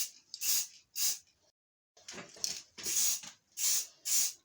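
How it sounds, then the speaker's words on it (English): Several sharp bursts of aerosol spray paint hiss onto small model bird beaks, short and close, with brief pauses between them and a longer gap midway. "we're going to spray the robin and racket tail bird beaks"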